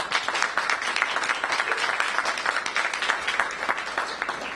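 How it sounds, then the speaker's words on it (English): An audience at a poetry recitation championship claps for Santa Catalina School, a dense, fairly loud wash of applause that holds steady throughout. "Santa Catalina School deserves a great round of applause."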